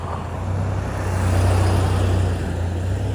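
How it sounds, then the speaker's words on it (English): A truck passes along a road, its broad low rumble swelling to a peak mid-way and easing off slightly, steady and fairly close with no voices. "A truck just drove by me more clearly."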